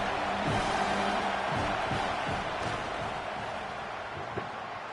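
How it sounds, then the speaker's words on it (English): Stadium crowd in a college football video game, Ohio State against Missouri, roaring steadily as a kicker lines up a fourth-down field goal; a dense, continuous wash of noise that eases slightly toward the end. "This crowd trying to do its part to get inside the kicker's head."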